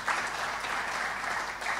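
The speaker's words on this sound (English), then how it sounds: "So let's give her a very, very warm clap." Warm audience applause at a regional state-of-the-region address, a dense, steady wash of many hands clapping together, moderately distant and sustained for the whole stretch with no voices over it.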